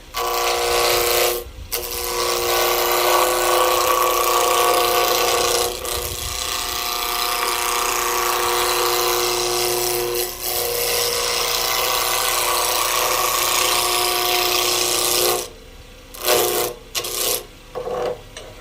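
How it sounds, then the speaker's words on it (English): Dense applewood spindle spinning at high speed on a wood lathe while being turned round, giving a steady, loud, continuous rasping whir with faint ticking, broken by a few short gaps and choppy bursts near the end. "You want to turn in spindle orientation at high speed. Again, this is applewood."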